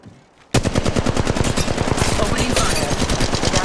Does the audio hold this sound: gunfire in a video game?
yes